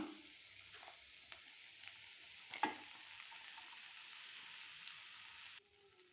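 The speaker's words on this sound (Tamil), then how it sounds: "இப்போ நூடுல்ஸை நம்ம சேர்த்துக்கலாம்." Pearl millet noodles stirred in a frying pan, giving a soft steady sizzle with scattered light scrapes and one sharper clink midway, quiet and close, with no speech.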